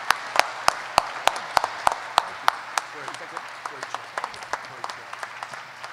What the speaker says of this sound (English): Big round of applause for one of the greatest teams of all time.